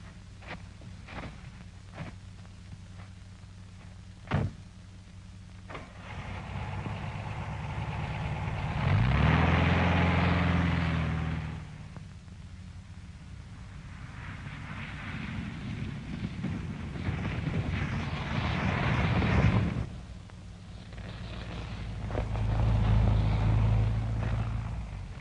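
A Volkswagen drives through snow: a low engine rumble swells and fades in long passes under gusty wind noise, with a sharp thump early on and no voices.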